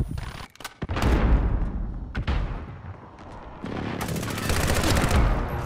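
Rapid automatic fire from an AUG rifle in Modern Warfare: close, loud bursts with sharp cracks and booming impacts, a brief lull, then a sustained rattling stream of shots to the end.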